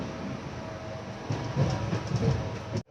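Train 18551 Kirandul Express running from Visakhapatnam toward Booraguhallu on a hill route, a steady rumbling rail roar with rising clatter from the cars, heard close from on board before it abruptly ends.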